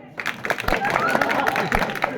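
A crowd at a devotional bhajan gathering claps together in a steady burst, dense overlapping hand claps with voices mixed in beneath.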